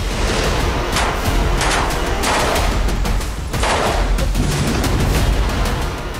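Dense gunfire crackles during street fighting in Gaza's narrow lanes, loud bursts overlapping in rapid succession with heavy rumbling booms underneath and no pause.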